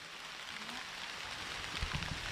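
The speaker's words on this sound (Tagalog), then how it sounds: "Kusog na yun yung ulan na." Heavy rain pours down steadily outdoors in a grassy village area, a soft, even hiss that fills the background with a few low thumps near the end.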